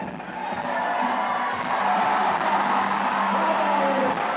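Spectators at a pole-climbing competition final cheer and shout continuously, a dense, steady roar of many voices in a large crowd with no single voice standing out.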